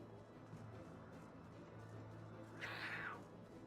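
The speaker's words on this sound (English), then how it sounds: "why do the bats sound like cats?" Bat creatures in Final Fantasy XIV give a single short meow-like cry near the end, heard over a steady low game ambience with faint background tones.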